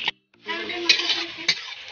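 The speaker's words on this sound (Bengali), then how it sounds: "এবারে এটাকে একটুখানি লাল করে ভেজে নেব" Onion and garlic frying in oil in a pan for a fenugreek hilsa dish, with a steady close sizzle and a couple of sharp stirring clinks against the pan, starting after a brief pause.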